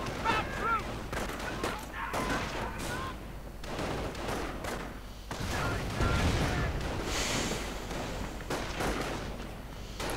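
Cannon and heavy machine-gun fire from a 37mm gun and a .50 caliber mounted on a World War II tank in a strategy game, dense overlapping bursts and booms running throughout alongside battle clutter.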